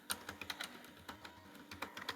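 Light, rapid clicking of keys on a computer keyboard, faint and close, in an uneven burst of about a dozen keystrokes with no talk.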